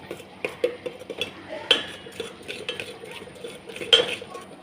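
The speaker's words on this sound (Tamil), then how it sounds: "ஊற்றி சிம்மில் வச்சு கட்டி போடாமல் கிண்டுவோம்." A spoon scrapes and clinks around a pot of simmering pearl millet porridge in uneven strokes, close by, with soft knocks against the sides and no talking.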